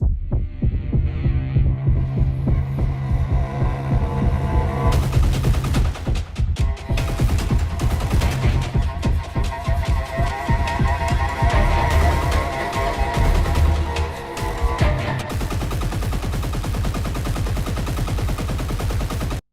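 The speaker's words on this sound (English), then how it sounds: "I really love this one. Almost like a heartbeat." A cello plays with a pulsing, heartbeat-like throbbing effect in a fast, chaotic section, a deep rhythmic thrum under dense bowed tones that grow busier and more agitated before easing off.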